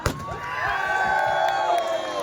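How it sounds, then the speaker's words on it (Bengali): Crowd cheering and whooping at a film promotion event, a sustained roar of many voices with shouts rising over it, steady throughout and fairly distant. "তোমাদের জন্য একটা জোরে হাততালি হয়ে যাক"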